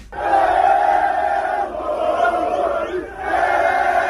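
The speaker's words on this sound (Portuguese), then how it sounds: "Esse aí é o som da torcida do Flamengo que acompanhou o ônibus com os jogadores até o embarque" Flamengo football supporters chant and roar as a big crowd while escorting the team bus to departure, a loud sustained mass of voices that dips briefly and swells again, with no separate speech.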